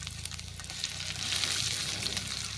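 Finely chopped onion hits hot oil in a pan while veg manchurian is being cooked, giving a close, loud, steady sizzle and crackle throughout, with no talking.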